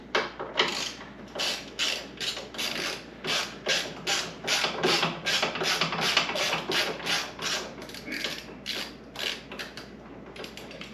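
Rapid rhythmic ratcheting clicks from a T20 Torx driver working screws loose, in repeated bursts of close, crisp clicking that pause briefly between turns, alone without talk.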